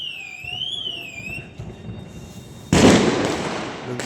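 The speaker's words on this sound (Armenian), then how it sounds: "ուժեղ բոմբեր, որ սիգնալիզացիան միացավ" Loud firecrackers set off during a city fire festival in Valencia, Spain, with a sudden heavy burst of crackling blasts after warbling car alarms wail nearby, the noise staying dense and close to the end.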